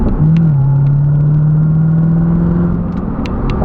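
A 2016 Corvette Z06 engine drones steadily under load in fifth gear, a low sustained tone holding nearly flat as the car pulls along, loud and close.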